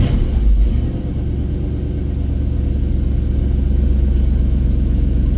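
A 1968 Ford F100 pickup's 302 V8, freshly fitted with Holley Sniper EFI, idles steadily with a loud, low, even rumble; there is a brief louder surge at the start, then it settles into a constant, close drone with no talk.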